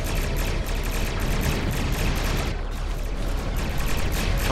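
Anti-proton starship weapons in the Star Trek Online game fire in a dense, continuous barrage, with fast repeating pulses over a loud, roaring wash of battle noise throughout.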